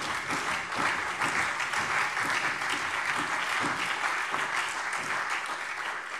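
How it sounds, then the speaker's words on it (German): Steady applause from members in a German state parliament plenary session, a continuous even wash of clapping at moderate distance throughout. "Applaus"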